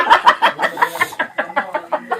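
A chicken clucks in a quick, rhythmic series of short, sharp calls, close by and fairly loud.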